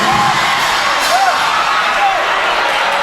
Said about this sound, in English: there we see the crowd goes wild